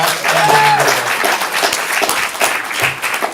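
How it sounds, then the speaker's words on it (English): A comedy club audience breaks into steady, full applause, dense clapping that stays loud throughout with brief voices mixed in. "Give a round of applause."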